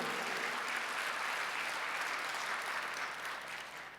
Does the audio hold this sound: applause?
yes